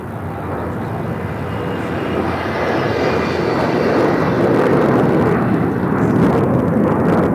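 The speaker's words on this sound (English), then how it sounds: "This is United Airlines 529 taking off to Denver" A United Airlines Boeing 737-900ER jet takes off from LAX bound for Denver, its engine roar loud, broadband and steadily building as it climbs, with no talking over it.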